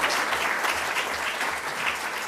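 An audience at a career forum launch event applauds in a sustained, dense round of clapping, steady and fairly loud for the whole stretch with no talking.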